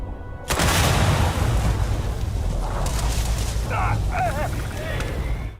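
Explosives detonating in the video game Starfield: a sudden loud blast, then a long, dense roar and crackle that slowly fades, with faint tonal game sounds near the end.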